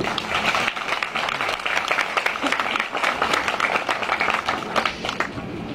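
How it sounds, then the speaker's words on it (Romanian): An audience at a commemorative event of song and poetry applauds with sustained, rhythmic clapping, full and fairly close, holding steadily for several seconds with faint voices underneath. "Consider că ar trebui aplaudat."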